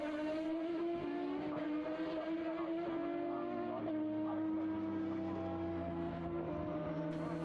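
Formula BOSS single-seater race cars at Mondello circuit drone steadily at moderate distance, a sustained engine note gliding down in pitch as they pass, fairly faint throughout.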